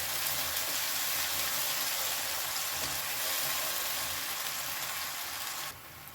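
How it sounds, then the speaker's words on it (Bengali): Masala spice paste with a splash of water sizzles steadily in a pan while being cooked down for pomfret masala fry, a continuous close hiss with no voices. "এবার এই মশলাটাকে আমি একটু ভালো করে কষিয়ে নেব"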